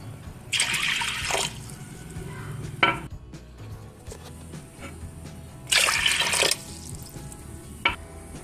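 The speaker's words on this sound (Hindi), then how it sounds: "ये हमने 4 कप पानी डाला है।" Water pours into a metal pressure cooker holding dal in two short gushes, with a few clinks of utensils in between.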